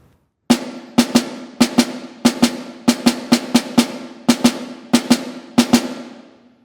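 Snare drum etude with deliberate rests: crisp, bright strokes come alone in short grouped bursts, each hit ringing briefly before silence, the spacing uneven where unplayed notes are felt rather than struck.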